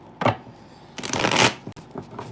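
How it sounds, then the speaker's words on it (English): A deck of cards being shuffled up close, with a brief riffle followed by a longer, louder riffle and a few softer card taps, no voices. "You know I gotta shuffle the deck extra good for the Virgos."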